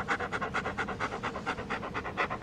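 A cartoon dog in a ReBoot episode pants in quick, rhythmic, breathy huffs, about eight per second, steady and fairly close with no other sound.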